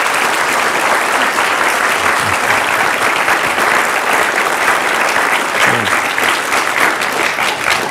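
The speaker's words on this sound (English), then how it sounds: "So one more time. Applause." After a talk by Kevin Rudd on China, a large audience breaks into sustained applause, a loud, dense and even roar of clapping that carries on without pause and without speech.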